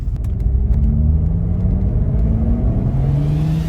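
A BMW 335i, tuned toward 500 horsepower, drives and accelerates behind a shop, its engine a loud steady rumble with rising tones as it pulls through the revs, with no talk.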